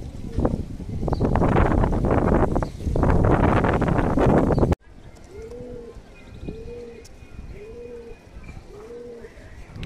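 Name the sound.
pigeons cooing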